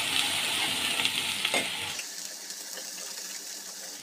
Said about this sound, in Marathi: मंद आचेवर तेल सुटूपर्यंत चांगलं फ्राय होऊन देणार आहोत आपण.